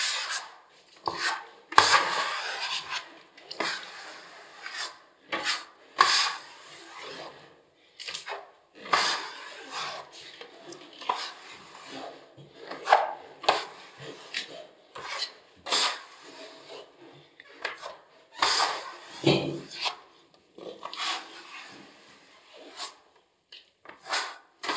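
A plastering blade is drawn over a wet skim coat of filler in repeated rasping, scraping strokes with short pauses between passes, close and fairly loud, with no voice over the strokes.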